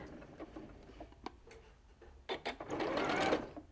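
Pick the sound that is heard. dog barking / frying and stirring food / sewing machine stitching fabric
sewing machine stitching fabric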